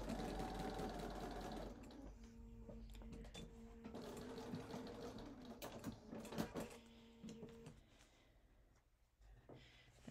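A domestic sewing machine stitches a quilt spool block in short bursts of rapid mechanical whirring and ticking, close but quiet, with pauses between runs and no talking.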